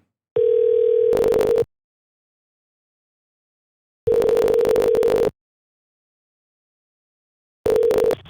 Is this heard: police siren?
no